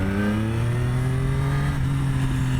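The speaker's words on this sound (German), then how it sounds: "der Motor dreht schön hoch" A Triumph Daytona 765 Moto2 Limited Edition motorcycle engine revs up smoothly, pitch climbing steadily as it winds higher, sustained and fairly close, with no talking.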